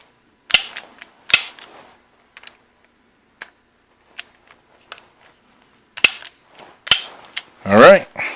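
A torque wrench clicks sharply while an EOTech scope on a Scalarworks mount is torqued to 20 inch-pounds: a few loud separate snaps with quiet gaps, faint small mechanical ticks between them, and a final creaky sweep.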